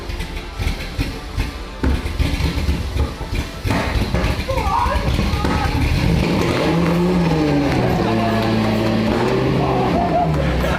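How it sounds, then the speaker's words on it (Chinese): A rebuilt engine in a Lamborghini, wrecked and abandoned for seven years, stumbles to life after choppy mechanical clatter, then settles into a rising, sustained roar with a clear pitch, with a voice narrating over it. "竟然让发动机踉跄的启动成功了"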